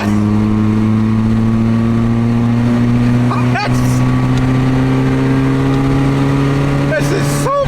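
A Mazda MX-5 engine droning steadily while driving, a close, continuous hum with a couple of brief squeaks, and voices talking over it.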